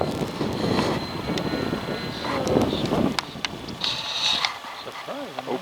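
A small RC airplane drones and whines overhead on a cold, windy day, its motor pitch rising and falling as it passes, with wind buffeting the microphone throughout.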